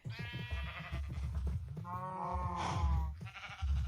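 Minecraft sheep bleat repeatedly in a survival game, the wavering calls overlapping in quick succession at a soft level with no voices.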